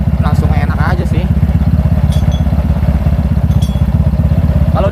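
A Honda PCX 160 scooter fitted with an upgraded CVT runs with a loud, close, steady pulsing engine note. A few faint clicks sit over the drone.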